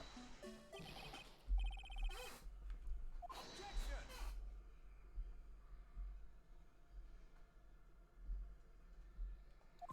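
A telephone ring from the video game Phoenix Wright: Ace Attorney, two bright tonal bursts in the first half over a steady low hum, followed by quieter game ambience.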